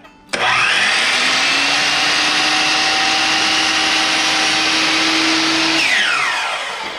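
A compound miter saw whines up sharply, runs at a steady loud pitch through a small piece of wood held against the fence, then winds down at the end.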